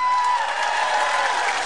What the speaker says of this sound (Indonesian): tepukan untuk Ning Baizura